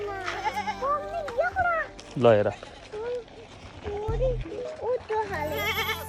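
A goat bleats briefly amid a child and adults chatting nearby, outdoors at a home with goats.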